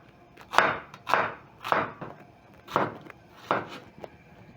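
A knife cuts through onions on a cutting board, roughly six distinct chopping strikes at an uneven pace, close and fairly loud with quiet pauses between them.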